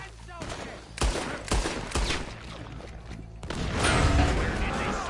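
A Red Dead Redemption 2 gunfight, with several sharp, separate gunshots in quick succession followed by a heavier burst of firing, mixed with shouting voices and battle noise.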